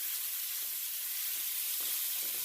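Ground beef fries in a pan with a steady, loud, close sizzle for the full clip. A wooden spoon breaks up the meat, adding a few soft scraping knocks and no voices.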